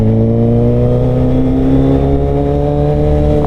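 A Suzuki Hayabusa with a new Penta carbon exhaust idles and holds a steady, smooth engine note, loud and close, with strong low harmonics and no talking over it.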